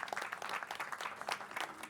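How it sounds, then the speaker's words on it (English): An audience at a pitch event applauds two people held up as examples, a faint, distant patter of clapping from a crowd in a large room. "I really would hope we'd give those two, just as examples, a round of applause"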